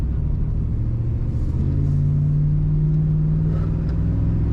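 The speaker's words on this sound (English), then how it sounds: "Sounds good. Got a good rumble to it." Deep, steady engine rumble of an idling 1995 GMC Sierra 1500 pickup truck, loud and close, with a slight rise in pitch partway through.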